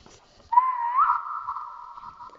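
One clear whistle in a video game, starting with a slight rise then holding a steady tone for about two seconds in an otherwise quiet setting.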